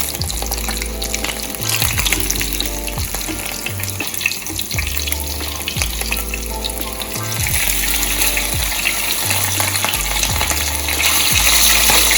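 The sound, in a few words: escovitch fish frying crispy in pan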